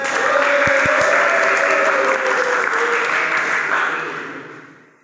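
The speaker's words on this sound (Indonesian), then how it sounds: "Tepuk tangan buat Bang Nabil." Students in a classroom give a round of applause for a presenter, steady dense clapping that holds loud for several seconds before tapering off.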